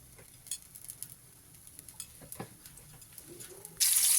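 A little oil in a kadai, with quiet scattered clinks and scrapes of a utensil against the pan, followed by a sudden loud burst of sizzling near the end.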